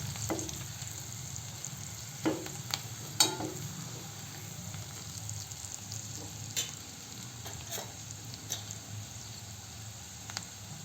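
Okra frying on a low flame as turmeric is stirred in: a soft, continuous sizzle with a steady low hum, broken by a few faint scrapes and ticks of the spoon.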